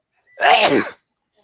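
A single sharp sneeze from a person, close and loud, standing alone for under a second with quiet before and after.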